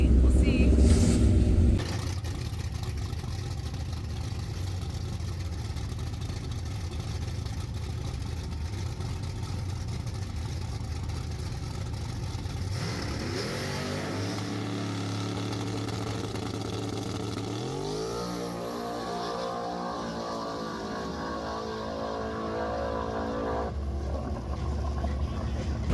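A brief loud burst gives way to a steady drag race car idle, then the motor revs hard twice with rising, whining pitch sweeps, and voices speak faintly underneath; the car has overheated and has a nail in its radial tire.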